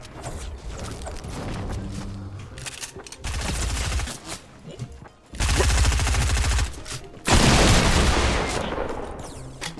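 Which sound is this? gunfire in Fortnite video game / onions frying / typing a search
gunfire in Fortnite video game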